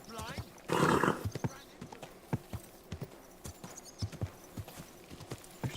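Horse hooves clip-clop in a steady walking rhythm inside a video game, with a loud whinny near the start and voices talking over the hoofbeats.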